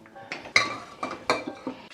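Dishes, pots and cutlery being put away in a home kitchen, a quick series of close clinks and clatters of ceramic and metal, about seven distinct knocks in two seconds, no talk.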